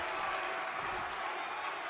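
Crowd applause in the WWE 2K23 wrestling video game, a steady, even wash of clapping and cheering with no breaks.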